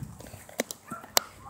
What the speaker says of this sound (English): Hey doggy, there's a dog.